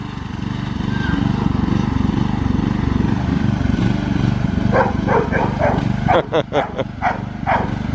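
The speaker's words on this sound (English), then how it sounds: "I'm letting my kids ride that lawnmower" A riding lawnmower engine drones steadily and loudly throughout, while a dog barks several times in the second half.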